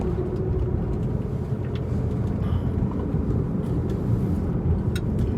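A Tesla Model 3 Performance accelerating hard on a winding canyon road in track mode, heard as a steady, dense low rumble of road and tire noise that holds constant throughout with no voices.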